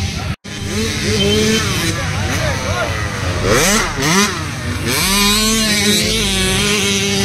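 Kids' motocross motorcycles racing on a dirt track in India, engines loud and close, revving and rising and falling in pitch as the bikes accelerate past, with a commentator talking over them.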